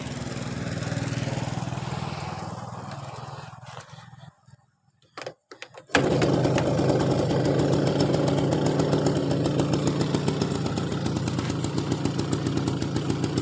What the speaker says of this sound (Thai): แต่เครื่อง ลองฟังกันเลยนะครับ